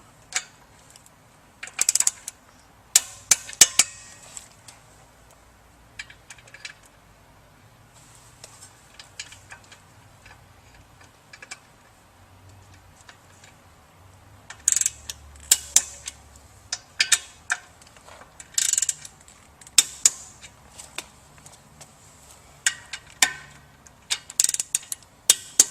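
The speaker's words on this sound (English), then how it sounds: "we'll go ahead and torque down the motor bolts." Wrench tightening the motor bolts on an Ebara-Pentax CVM pump, sparse, close metallic clicks and taps scattered irregularly over a quiet background.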